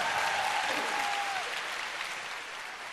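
A concert audience claps in a dense burst of applause that slowly tapers off over a few seconds, with a brief tonal note early on.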